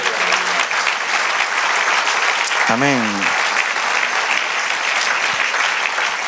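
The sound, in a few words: church congregation applause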